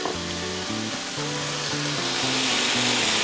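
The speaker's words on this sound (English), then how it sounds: "Now it's time to add our onions. And I got 1 onion, gonna add in there." Chopped onion hits a hot pan with spicy Italian sausage for baked ziti, giving a loud, steady sizzle and crackle that holds and swells slightly over a few seconds, with faint clinks of stirring.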